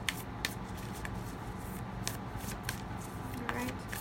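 Moonology oracle cards are shuffled by hand in a series of crisp riffling flutters and soft taps, close up, repeating irregularly over a faint background.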